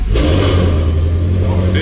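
A car engine idles loud and close for under two seconds after being primed once, a steady low rumble with a brief rev rising near the start and continuing without pause.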